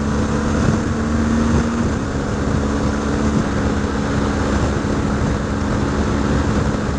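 Steady highway wind roar and engine drone heard from inside an Arai XD4 helmet while riding a motorcycle on the interstate near the speed limit, a continuous loud rush with a low hum, with no talking.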